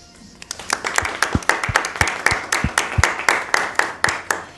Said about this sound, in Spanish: Les vamos a pedir un fuerte aplauso.